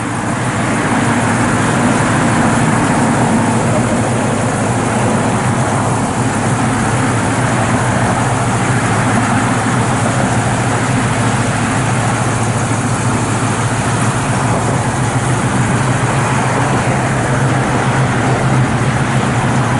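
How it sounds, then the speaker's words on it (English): A 1964 Ford Falcon Futura V8 with an aluminum intake, Holley carburetor and dual Flowmaster exhausts idles steadily and loudly throughout, a constant low rumble with a smooth, even throb and no voices. "Thing fires right up."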